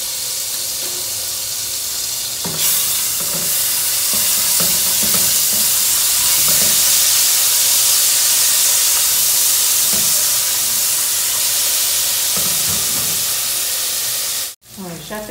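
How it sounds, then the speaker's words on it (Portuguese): Garlic and seasoning frying in olive oil, a steady loud sizzle and hiss with occasional stirring scrapes, heard up close for most of the stretch before it cuts off abruptly near the end. "Um azeitinho pra gente fritar o alho."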